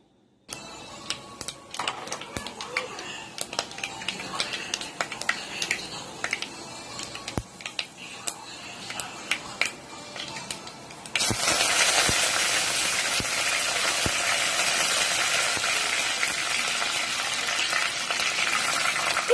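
Oil crackles and sizzles in a pan, with scattered pops early on, then a sudden louder, steady sizzle as mustard seeds, fenugreek and curry leaves hit the hot oil.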